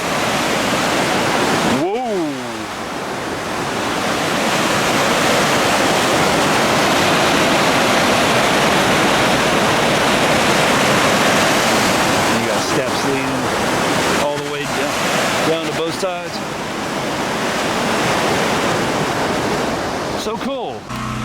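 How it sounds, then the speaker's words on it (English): Loud, steady roar of rushing water at abandoned mill ruins, broad and continuous like a torrent or waterfall close by, with a few brief knocks and handling bumps along the way. "that's some powerful water breaking through there."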